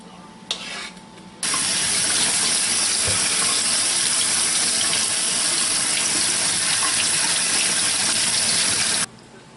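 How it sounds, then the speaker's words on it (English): Cold tap water pours steadily over snow peas in a metal colander at a kitchen sink, a loud, continuous rushing gush that runs for about eight seconds before cutting off abruptly. "put them in a colander and then run cold water over to stop"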